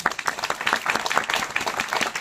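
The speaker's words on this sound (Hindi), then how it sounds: "आप सबकी अपलाइन डायमंड जो है उनके लिए तालियां बजाते हैं" Audience clapping at a motivational business gathering, a dense continuous patter of many hands at moderate loudness, steady through the short stretch with no talk.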